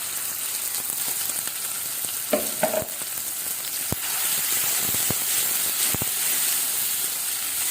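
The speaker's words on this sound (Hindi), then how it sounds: "सबसे पहले जो चॉप किए हुए प्याज है ये डाल दें।" Chopped onions sauté in hot oil, a continuous bright hiss and crackle with a few scattered clinks of a utensil, steady and close without talk.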